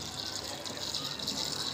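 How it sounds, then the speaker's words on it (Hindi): Water poured into a pot of masoor dal while cooking, a continuous splashing gush that stays fairly steady and close, with no talking over it. "अब इसमें हम पानी ऐड करेंगे।"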